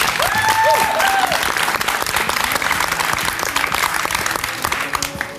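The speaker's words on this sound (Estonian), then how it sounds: "aplaus!" A large audience at a song contest semifinal breaks into loud, sustained applause, clapping densely and evenly, with a few whistles and cheers near the start.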